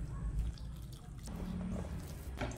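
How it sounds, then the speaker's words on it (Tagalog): Water trickles and drips little by little into glutinous rice flour for palitaw, producing soft, close, irregular splashes and squishy wet sounds with no speech. "Lagyan natin ng tubig, pa konti-konti."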